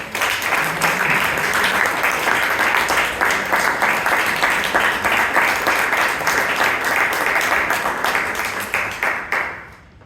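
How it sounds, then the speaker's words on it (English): Loud, continuous applause at a Bangalore Toastmasters meeting for the table topics master, a dense patter of many hands that stays steady for about ten seconds before dying away abruptly at the end. "Let's give our table topic master a huge round of applause"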